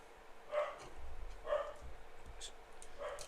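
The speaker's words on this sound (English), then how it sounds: "Excuse the dog barking in the background if you can hear it." A cockapoo barks in the background, several faint repeated woofs at roughly one-second intervals behind low room noise.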